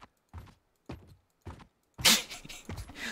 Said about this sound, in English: I wish that like my actual footsteps could sound like this